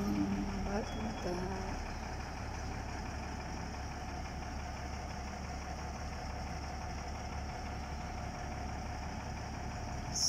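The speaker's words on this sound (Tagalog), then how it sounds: "School bus." A school bus engine idles in Muscat, Oman, with a low continuous rumble and steady mechanical knock held at moderate distance, alone and unbroken.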